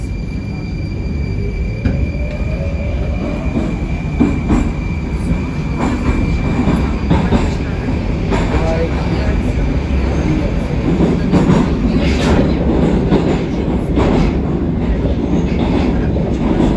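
A Moscow metro train on the Kaluzhsko-Rizhskaya line runs loud and steady from inside the carriage, with continuous rumbling, rail clatter and bursts of wheel squeal, while a faint announcement voice sits low under the noise.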